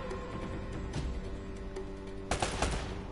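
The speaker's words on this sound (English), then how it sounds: "Where's the other one shooting from now?" Enemy gunfire rings out in Uncharted: Drake's Fortune, quiet distant shots through most of the moment, then a louder rapid burst of several shots near the end.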